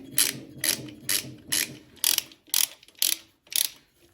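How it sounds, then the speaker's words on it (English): A ratchet tightens two bolts on a 9 HP Craftsman snowblower engine during restoration, giving eight or nine evenly spaced clicking strokes, close and fairly quiet, with no voices. "now we're going to tighten these two bolts back up"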